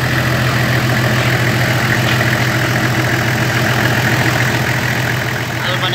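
Engine of a 2004 Toyota pickup running loud and close, a steady rough idle-like drone with a strong low rumble and vibration, holding even throughout with no clear rev swells.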